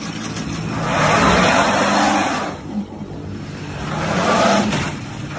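A truck engine revs hard in two long roaring swells, climbing, easing off briefly, then surging again, loud and close.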